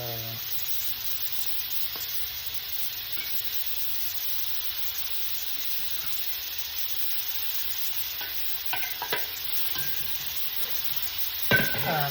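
Onions and bell peppers fry in oil in a pot, giving a steady, even sizzle throughout with a few soft clinks of stirring near the end.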